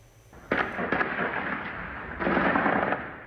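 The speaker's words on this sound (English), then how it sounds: "Gunfire was heard in the southern Israeli city Sderot." A burst of loud, sharp gunfire cracks and booms echoing between buildings in the streets of Sderot, southern Israel, with sustained rumbling blasts in two heavy waves.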